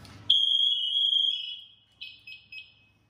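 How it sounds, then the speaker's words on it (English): Firefighter's PASS device alarm, a piercing high electronic tone that sounds loudly for over a second, fades, then gives three short chirps, close and clear with no talking. "this is called the pass device. And this shows me how much air we have in my bottle. And it also can be an alarm if I get stuck."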